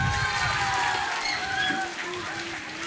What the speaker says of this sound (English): Let's all clap for them, a loud one.